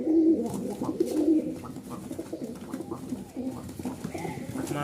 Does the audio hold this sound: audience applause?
no